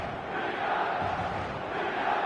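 Steady roar of a stadium crowd in the eFootball 2026 video game before kickoff, a dense, continuous wash of massed voices and chanting that stays loud and unbroken throughout.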